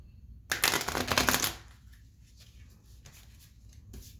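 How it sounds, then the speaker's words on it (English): A deck of animal spirit oracle cards is given one quick shuffle, a brisk close riffling burst about a second long followed by faint card handling and light taps. "I'm going to give you one good shuffle."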